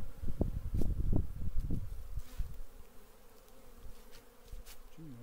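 Carniolan honeybees fly around their hives on one of the first warm days of spring, a steady close swarm buzz that lasts throughout, with some low handling bumps near the start.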